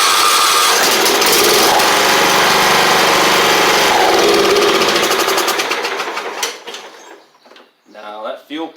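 John Deere L110 riding mower engine struggling with a fuel pump fault, running loud and rough up close before sputtering and dying away, followed by someone talking.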